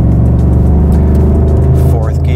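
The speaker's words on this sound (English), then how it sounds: "now you hear the engine" A 2021 Ford Mustang Mach 1 engine hums loudly and steadily in fourth gear, then a short rising whine near the end as it picks up.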